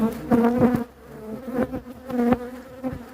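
Loud, close buzzing of a honeybee trapped inside a beekeeper's mask during honey harvesting, in irregular bursts, swelling and fading as it moves about, with short quieter gaps between buzzes.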